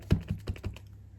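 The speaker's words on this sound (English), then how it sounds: "I'm going to stamp the fern again." Rubber stamp with a fern design pressed onto the closure flap of an envelope during card making, heard as four soft, close taps in quick succession, then quiet.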